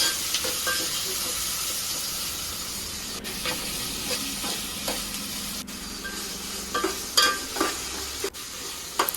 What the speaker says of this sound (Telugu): ఇప్పుడైతే టమాటోస్ యాడ్ చేస్తున్నాను ఫిష్ కర్రీలోకి. అవి బాగా ఫ్రై అయ్యే వరకు డీప్ ఫ్రై చేసుకోవాలి మనం.